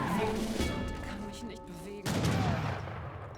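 Musket and rifle volleys crackle through an Age of Empires 3 battle between German and Hausa armies, dense overlapping shots with a loud burst near the end, under steady commentary.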